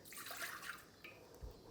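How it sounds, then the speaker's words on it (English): A cup of milk poured into a cooking pot, a soft, faint liquid splash lasting under a second, followed by quiet kitchen background. "Pour that into our pot."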